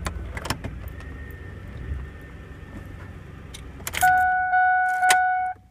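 Ford car started with a replacement key: keys jangle and click in the ignition, then the dash chimes sound in sustained tones as everything powers on, near and clear.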